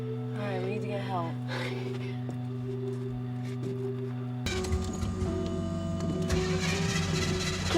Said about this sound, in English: Can't have a horror movie without a car not starting.